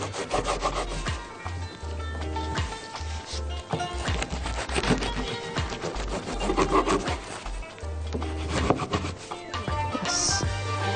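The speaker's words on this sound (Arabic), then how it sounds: "تعالوا نقطع الحبة دول كمان ونقدمهم على البورد الطويلة دي" A knife cuts through potato hawawshi sandwiches on a long serving board, giving repeated close rasping, sawing strokes with crunchy crust scraping, steady and fairly loud, with no talking.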